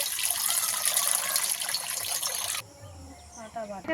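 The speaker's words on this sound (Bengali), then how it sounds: "কড়াতে পরিমাণ মতন জল দিয়ে দেব" Water poured into a wok on a home kitchen stove, a steady loud splashing stream for over two seconds that cuts off abruptly, followed by quieter faint sounds.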